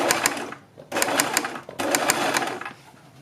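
A sewing machine stitches a strip onto a loop-trimmed neckline in three bursts of rapid, rattling needle strokes, each running about a second, separated by short pauses.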